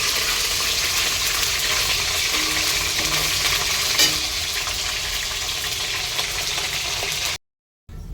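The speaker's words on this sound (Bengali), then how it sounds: "তো এখন তেল গরম করছি। তো এখানে এই মোরলা মাছগুলো ভাজবো বলে" Morala fish frying in hot oil, a steady loud sizzle and crackle running almost without pause, with faint utensil clinks, then a brief cut to silence near the end.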